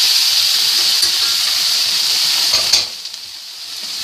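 Mushrooms and zucchini sizzle and fry steadily in a hot pan, a continuous loud hiss with a brief clatter of stirring before it settles a little quieter.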